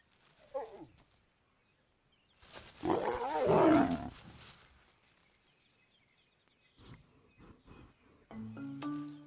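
A wild lion lets out one loud, drawn-out roar in the middle of the scene, framed by quieter animal and bird calls before and after it.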